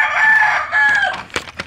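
A chicken lets out a loud, close drawn-out crow, followed by a few short clucks and scratchy movement noises, with no one talking.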